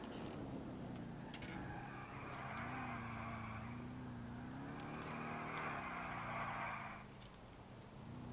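In GTA IV, a Moskvich 408 police car drives with a steady engine drone that rises and falls, joined by bursts of tyre skid and road noise at moderate volume.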